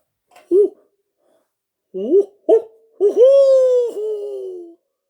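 A voice mimics an owl with a few short hoots followed by one long, wavering hoot, close and clear with no other sounds.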